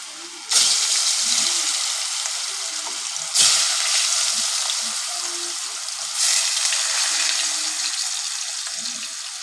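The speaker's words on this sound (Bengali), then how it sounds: "ভালো করে আমার এটা ফ্রাই হতে থাক আলুটা" Potatoes frying in hot oil with turmeric in a pan, a loud close sizzle that flares up sharply three times as pieces go in or are turned, then settles into a steady hiss.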